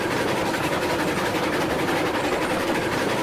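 A train rolls along steadily in the video game Railroads Online, a continuous dense rumble and rattling clatter of wheels and cars with no distinct breaks, close and fairly loud with no voices.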